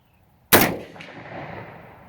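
An AR-15 rifle firing green tip ammunition outdoors: one sharp, loud shot cracks out after a moment of quiet, then a long rolling echo fades slowly.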